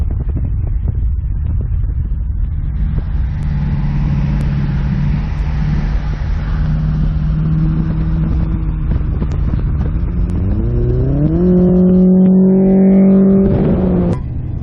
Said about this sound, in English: Trey bought the S14, as you can see from our previous clips. He's driving it home.